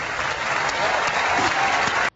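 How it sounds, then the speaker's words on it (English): Audience applause at an Apple keynote, a dense, steady wash of clapping from a large crowd that holds level for about two seconds and then cuts off abruptly. "Let's give them a round of applause."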